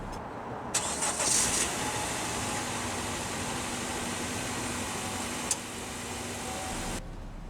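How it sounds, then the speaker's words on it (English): A 2016 Honda Civic LX Coupe engine cranks and fires up, then settles into a quiet, steady idle heard from inside the cabin, with a faint click near the end and no talking. "let's go ahead and start the engine."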